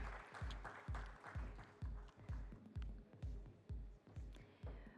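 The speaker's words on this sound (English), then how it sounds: "A huge round of applause" Rhythmic, fairly faint clapping from a conference audience at the Nasscom SME Confluence 2025 as a speaker is introduced, heavy regular beats that sound more like a few hands or a thumping rhythm than a full crowd.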